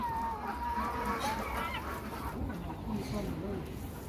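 Thirty newly arrived free-range laying hens squawk and cluck faintly in the background while people talk nearby.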